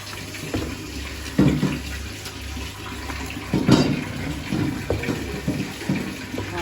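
Water splashes and pours in uneven bursts onto a cloth while making maize-flour flatbread, close and fairly loud, with a steady background hum.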